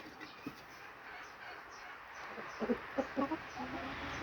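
Chickens cluck softly in short bursts over a quiet outdoor background, the clucks clustering toward the end.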